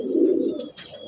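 A pair of Bombay pigeons coos softly at close range, one low throaty coo followed by faint higher chirps.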